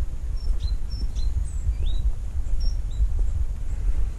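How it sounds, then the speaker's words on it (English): An outdoor blackbird sings short, high whistled phrases repeated several times, heard at a moderate distance over low wind rumble. "Oh, a blackbird. If you can't see it, you can hear it."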